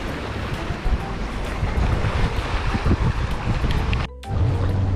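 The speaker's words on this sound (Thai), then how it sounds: "อันนี้ก็คือบรรยากาศริมทะเลสาบชิคาโกนะฮะ ทะเลสาบมิชิแกนที่เมืองชิคาโกค่ะ" Lakeside ambience on the Lake Michigan shore in Chicago: heavy wind buffets the microphone over washing waves. The roar stays loud and steady, then briefly drops out near the end before returning.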